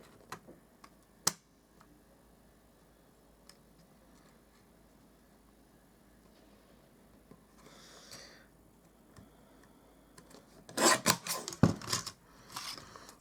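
Vellum card trimmed on a paper trimmer: a quiet stretch with a few isolated ticks, a soft sliding swish midway, then a cluster of sharp clicking cuts near the end, close and fairly loud against near silence.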